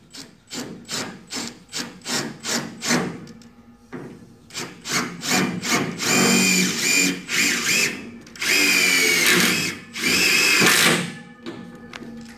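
Power drill driving screws into a plywood divider panel for a horse stable, heard as a run of short rhythmic bursts followed by longer whirring stretches, close and fairly loud with no talking.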